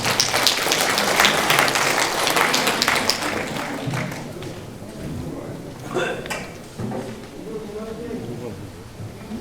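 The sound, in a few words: audience applause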